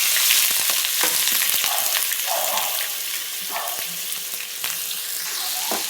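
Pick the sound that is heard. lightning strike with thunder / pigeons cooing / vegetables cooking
vegetables cooking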